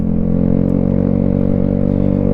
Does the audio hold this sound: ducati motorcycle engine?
yes